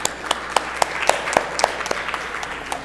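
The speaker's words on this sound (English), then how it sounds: "if we could have a last round of applause for all of the great speakers" Scattered audience applause at a conference oral abstract session, a few distinct claps ringing out in an uneven rhythm at moderate level over a quiet room background.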